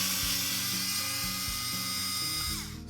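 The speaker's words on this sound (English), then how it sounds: "get in there with the screwdriver and just pop it out" A powered screwdriver drives Torx screws on a DJI Agras T50/T40 remote controller under repair. It gives a steady, close motor whine that shifts pitch in short steps and fades at the end.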